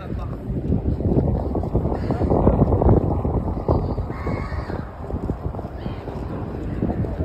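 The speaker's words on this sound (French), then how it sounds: "On entend le cri des mouettes." Seagulls crying by an old lighthouse on a cold, windy day at about 5 degrees, calls rising and falling over heavy wind buffeting that rumbles steadily throughout.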